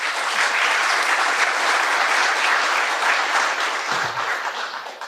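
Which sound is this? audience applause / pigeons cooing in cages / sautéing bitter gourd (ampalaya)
audience applause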